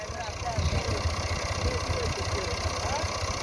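A struggling Massey Ferguson 240 tractor engine runs in a steady low throbbing idle, close and continuous, with voices talking over it.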